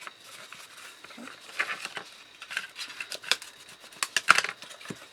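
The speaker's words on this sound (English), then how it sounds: "just trim one of the pieces like so" Scissors trim a cardboard strip with a series of crisp, irregular snips and scrapes up close, some sharper cuts bunched toward the end, amid quiet rustling.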